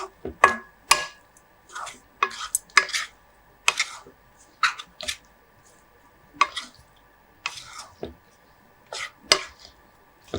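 Mango neem flower rice being mixed in a pot, with a spoon clinking and scraping in irregular short bursts, fairly close and with no talking.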